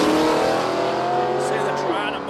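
Holden Torana drag racing car accelerating down a dragway strip, a loud, sustained engine roar with rising revs, heard under a race commentator's continuous talk.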